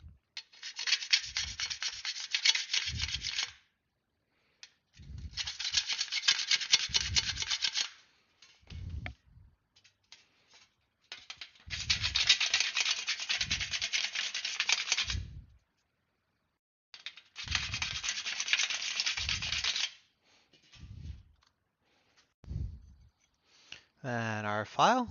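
A sanding block rubs against an airplane wing part in bursts of rasping strokes, a few seconds each with pauses between, close and fairly loud, and talk comes in briefly during the gaps.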